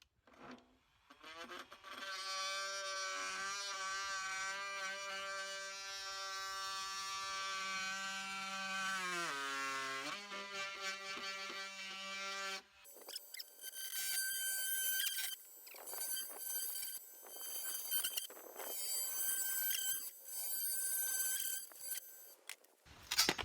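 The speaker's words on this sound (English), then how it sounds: "Let's see if this oscillating tool can get in there instead of the jigsaw." An oscillating multi-tool cuts through wood for a small dog ramp. A high, steady whining drone holds for about ten seconds, dips, then gives way to a rougher, buzzing grind with uneven bursts.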